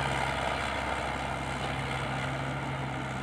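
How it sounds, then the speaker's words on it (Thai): A Komatsu PC60 excavator's engine runs continuously while stripping topsoil into a six-wheel dump truck, a steady, loud droning hum with a constant low tone and no talk. "ผมก็เสียงเครื่องยนต์ก็จะโหดครับผม"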